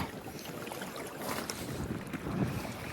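Strong wind at sea buffets the microphone in a continuous rumbling roar during night fishing, with faint water sounds beneath it and no one speaking.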